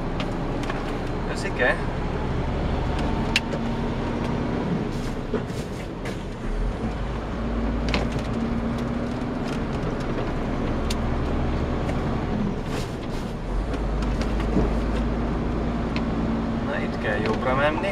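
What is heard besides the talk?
truck approaching from the opposite direction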